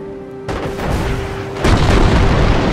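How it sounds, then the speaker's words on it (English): Artillery barrage explosions in the World War II strategy game Company of Heroes, a loud booming rumble that swells in two heavy waves, with no talk over it. "Barrage on target."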